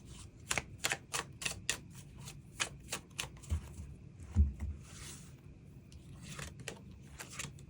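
Tarot cards are shuffled and drawn in quick bursts of crisp riffling clicks and soft slides, close and fairly quiet, with a brief muffled thump partway through.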